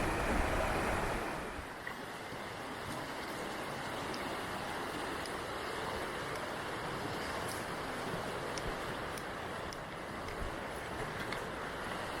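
Blue Creek flowing beside a trail in North Boundary country, a continuous broadband rush of moving water, steady and fairly close, with no voices.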